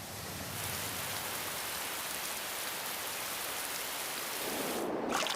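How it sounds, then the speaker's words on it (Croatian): Steady rain falls on the ground as a continuous, even hiss with dense pattering, holding at a constant level throughout with no voices. "Kada se oblaci napune vodom, ona počne padati na zemlju kao kiša."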